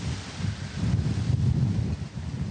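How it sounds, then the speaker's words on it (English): Strong wind gusts buffet the microphone amid a Pacific Palisades wildfire in Southern California, a loud continuous low roar that swells in the middle and eases toward the end. "Every once in a while we get these tremendous gusts."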